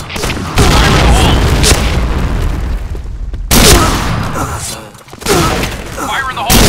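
Grenade blasts and gunfire in a video game shooter, a dense run of loud booms and rapid shots filling the whole stretch, with a brief drop partway, and shouted voice lines mixed in.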